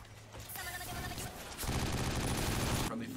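Video-game gunfire from 50 Cent: Blood on the Sand, with rapid bursts and mechanical clatter, dense and continuous, growing heavier halfway through before cutting off near the end.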